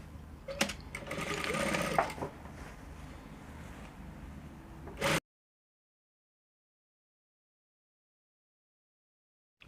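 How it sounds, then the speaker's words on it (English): A sewing machine stitches a blouse peplum to its lining along the bottom seam in one continuous whirring run of about five seconds, close and fairly loud, then stops abruptly into silence. "Match it together right side to right side with the lining, and you are going to stitch the bottom part."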